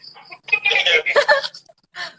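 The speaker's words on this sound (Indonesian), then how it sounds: "Ada suara burung." Clucking, chicken-like bird calls sound in short bursts at close range, several quick notes in a row with brief pauses between them, while no clear speech is heard.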